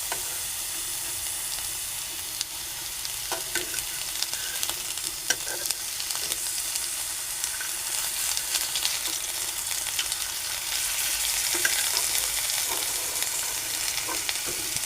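Snake gourd slices sizzle steadily in hot oil in a pan, a continuous bright crackle with occasional sharper pops and scrapes as the pieces are turned over, with no talking.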